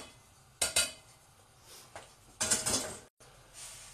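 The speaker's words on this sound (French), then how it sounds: "Je mélange la farine avec le sucre." Flour and sugar are mixed in a bowl, with two bursts of clinking utensil-against-bowl scraping and stirring, close and fairly quiet, separated by softer gaps.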